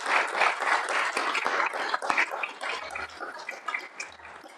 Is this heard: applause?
yes